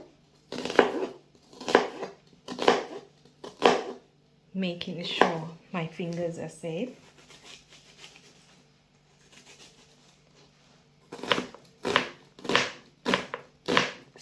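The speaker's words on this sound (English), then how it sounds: "I want to finely chop the onion, so I'm going to be chopping it" A knife finely chopping an onion on a board, heard as rapid bursts of crisp cutting strokes near the mic, with a stretch of talk in the middle and more chopping afterward.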